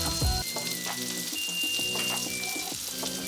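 A keto pizza sizzles in a frying pan, a moderate steady crackle with a brief knock near the start and light watery spatter, heard alone without voices.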